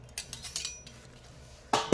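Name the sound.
newly bought plates and spoon being handled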